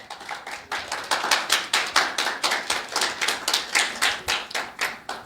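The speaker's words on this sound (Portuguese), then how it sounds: "Vamos aplaudir Jesus pela vida da minha." Church congregation applauding together, a dense run of loud rhythmic claps pulsing steadily throughout with no talk over it.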